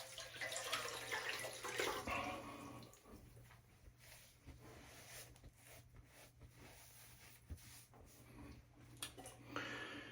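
Water sloshing and splashing in a bowl of cold water as a Karve safety razor is swished and rinsed, close up, with soft drips and a few clinks.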